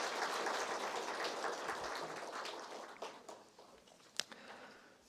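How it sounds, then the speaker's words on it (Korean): A church congregation applauding during a Sunday service, with a dense patter of clapping that gradually thins and fades, ending in a few scattered claps. "우리 지민자매에게 다시 한번 감사의 박수를 보내시기 바랍니다."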